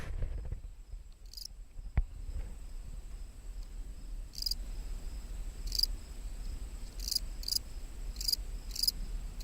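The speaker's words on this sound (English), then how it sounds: "the crickets are sticking their heads out from between the stones" Crickets chirp in bursts across a yard with stones, a repeated high trilling that comes and goes over a steady low outdoor rumble, fairly close and clear.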